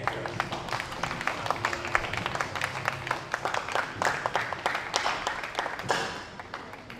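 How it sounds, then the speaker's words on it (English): Audience applause at the South Western Open 2023 squash event after Olivia Fiechter reaches the semi-finals, a steady patter of many hands clapping that thins and fades out near the end. "a big round of applause for the USA's Olivia Fiechter"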